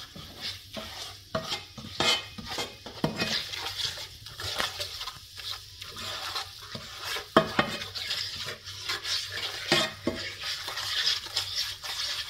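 Flour fries in oil in a pan while a spoon stirs it, a soft sizzle beneath repeated scraping strokes and clinks, close and uneven, with no talk.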